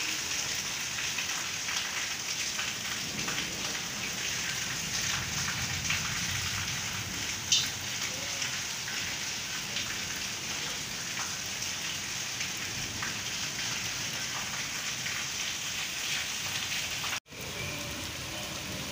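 Heavy, steady rain with thunder and lightning in Chattroh, Dadyal, Azad Kashmir, pours down in a dense, continuous hiss, with a single sharp knock near the end and no voices.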